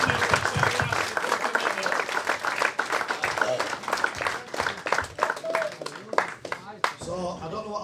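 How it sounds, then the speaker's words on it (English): Audience applause at an amateur rugby league club's open-age and under-18s awards evening, a steady round of clapping from a room full of people lasting several seconds, with some voices and cheers mixed in before it thins out. "I'd like a round of applause for"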